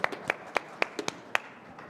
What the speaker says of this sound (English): Let's give a round of applause, right?